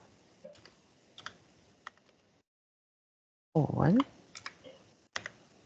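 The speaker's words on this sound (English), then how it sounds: "I might as well type it" Keyboard keys tapped in short scattered bursts on a computer, a few clicks at a time, with a louder voice breaking in midway and more sparse typing afterward.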